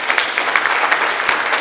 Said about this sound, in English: Can we give these ladies a big round of applause?